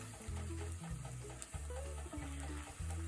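Eggs fry steadily in a cast iron skillet, a dense continuous sizzle with a low repeating hum underneath and occasional small crackles, close and fairly quiet.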